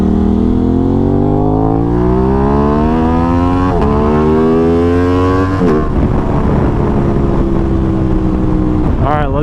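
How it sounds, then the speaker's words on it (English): A 2021 Aprilia RS660 motorcycle engine, loud and close, rising in pitch as it climbs through the revs, with sharp blips and a drop in tone at each downshift, followed by a renewed climb. "I'm telling you, this downshift is very clean"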